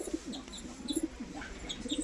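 Tumbler pigeons of a high-flying breed, including a Teddy Mix, coo in low soft repeated bursts close by, with a few faint chirps scattered throughout and no talking.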